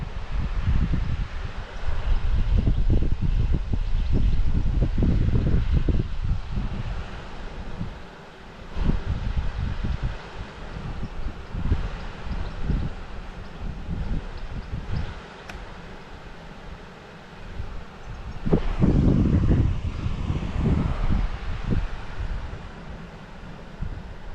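Wind buffets outdoors in steady gusts while a DJI Mini 3 Pro drone flies, roaring against the microphone with a rustling, rumbling texture that swells and eases.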